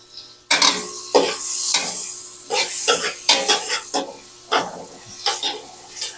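Garlic and ginger sizzle in a hot pan while a utensil stirs and scrapes in bursts, the frying loud and close with clattering strokes against the metal, no voices.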